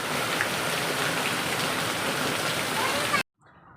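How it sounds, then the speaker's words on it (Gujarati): Steady, dense monsoon rain pours down loudly for about three seconds, a continuous hiss that cuts off abruptly, leaving a quieter background. "વરસાદ તો એટલો ને એટલો જ ચાલુ છે"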